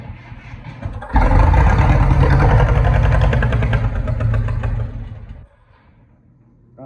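Case 770 tractor engine cranks and catches after a second, running loud and rough for several seconds close by before dying out abruptly, leaving quiet.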